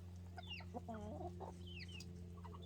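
Free-range chickens in a coop on a homestead, giving soft scattered clucks and short calls over a steady low electrical hum, fairly faint and close by.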